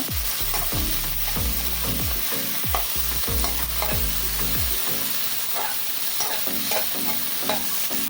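Curry leaves, mint and coriander frying in a pan for Madurai thanni chutney, stirred briskly with a ladle that gives repeated scraping knocks over a steady close sizzle, with no voices.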